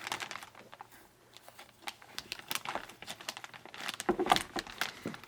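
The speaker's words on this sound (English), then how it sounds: "we're going to put this in the plastic bag." A plastic bag crinkles and rustles up close as a 2026 Colt Python revolver with a bright stainless finish is slipped inside, the crackling coming in irregular bursts that grow louder toward the end.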